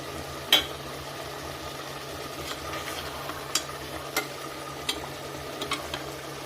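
Onions and marinated chicken with turmeric and salt frying for chicken biryani, a quiet steady sizzle with occasional light clicks of stirring and a soft low hum throughout.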